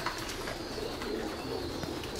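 Pigeons at a pigeon farm coo steadily in the background, layered low calls over a constant hum of flock and barn noise, with no talking.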